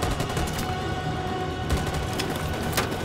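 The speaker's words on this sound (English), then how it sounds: "Give me some covering fire" Rapid bursts of gunfire from the video game Detroit: Become Human fill the scene, dense and continuous with sharp cracks layered over a loud, sustained rumble.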